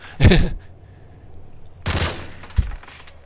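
Gunfire inside a clothing store in the video game Modern Warfare 3, two loud bursts of shots with a short quieter gap between them, followed by a brief extra crack.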